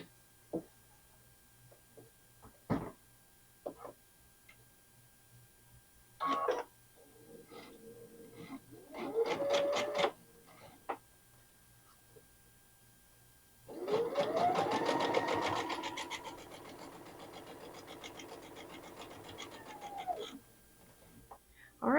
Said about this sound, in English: you'll sew 1/4 of an inch on each of your binding pieces.